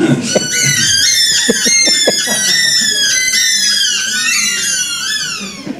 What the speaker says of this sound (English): So they scream every time they leave my hand